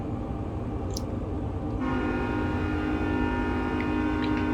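Train running in the Train Sim World 2 Sherman Hill route, a steady loud rumble and rail drone throughout, with a brief horn-like tone early and a denser engine hum building from the middle onward.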